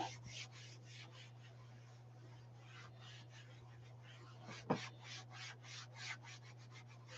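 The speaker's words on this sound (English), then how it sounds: "That's why I'm buffing quite a bit to get the extra off" Wax buffed by hand onto a chalk transfer design, repeated quiet rubbing strokes in a steady back-and-forth rhythm over a low constant hum, with one small knock partway through.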